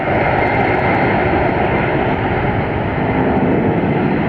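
A DHL cargo airplane passes at Atlanta Hartsfield-Jackson airport, a steady, loud, broadband engine roar holding for the whole stretch with no talking over it.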